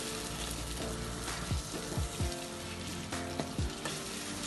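Chopped tomatoes simmer and sizzle in a sweet potato curry pan, a steady close bubbling hiss broken by several soft clunks and scrapes of stirring.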